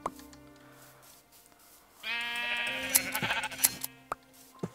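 Sheep bleating in the video game Minecraft, a clear, loud, drawn-out bleat that rises suddenly after a quieter opening, with a few sharp clicks near the end.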